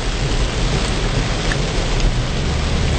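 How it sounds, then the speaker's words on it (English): Rain falls steadily on a car during a summer road trip toward D.C., making a loud, constant close hiss with no talking. "It's raining."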